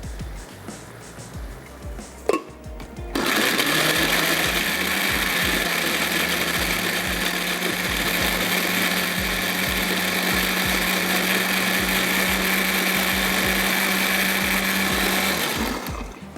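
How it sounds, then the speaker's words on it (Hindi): An electric blender whirring loudly as it purees green chutney of fresh coriander and tamarind pulp, starting after a few clicks and running steadily for about twelve seconds before stopping. "चलिए जी, और इसको कर लेते हैं अच्छा सा ब्लेंड।"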